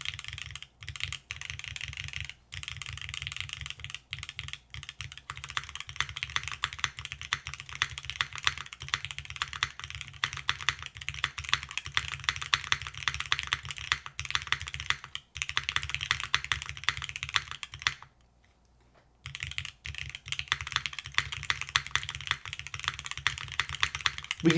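Rapid, steady typing on an Aepex60 mechanical keyboard with SWG Nimbus switches, granite alphas, aluminum plate, no foam and a milky yellow spacebar, close and clear throughout, with one brief pause near the end.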